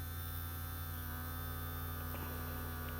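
An electric motor hums steadily as a knob is turned on lab equipment, a faint, even drone that holds unchanged throughout with no talking.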